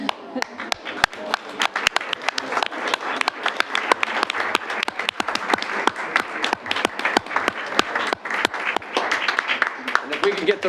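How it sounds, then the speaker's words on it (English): Council members and Citizen Academy participants applaud heartily at a city council meeting, sharp individual claps ringing out in a brisk, slightly uneven patter from a modest group in a hall, steady and moderately loud from start to finish. "and then we will all applaud heartily."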